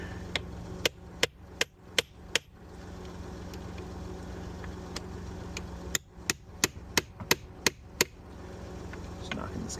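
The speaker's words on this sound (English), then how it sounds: "Now I have a real hammer." Sharp metallic hammer strikes on a Sprinter van in two bursts, about six quick blows, a pause, then eight more, ringing out over a low steady engine hum.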